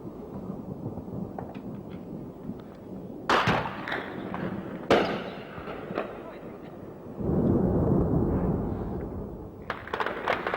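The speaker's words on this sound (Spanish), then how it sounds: "Siguen las explosiones en el aeropuerto" Several heavy booms and thuds, some near and loud, with a sustained rumbling roar between them, like explosions going off at a distance, at an airport under air attack.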